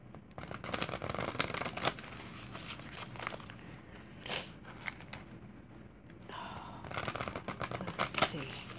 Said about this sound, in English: Okay, we give it a good shuffle.